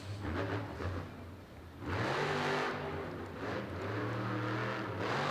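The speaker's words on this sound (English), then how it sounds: "Wildside now goes big time sky wheelie on the single log" Wildside monster truck engine revving hard and sustained during a sky wheelie on a single log in a Monster Jam arena event at UBS Arena, loud and continuous with a surge midway.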